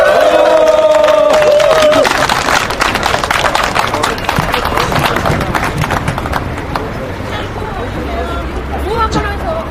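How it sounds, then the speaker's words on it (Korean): Outdoor crowd at a protest rally clapping and cheering, a dense wash of applause and shouts that starts loud and slowly fades, with voices through it. "다시 한번 큰 박수 부탁드립니다."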